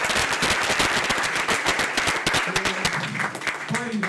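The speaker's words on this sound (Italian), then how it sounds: "preferirei un applauso a Enrico Loccioni" Audience applause at a school presentation of an interactive desk project, dense clapping mixed with cheers and voices throughout, loud and close.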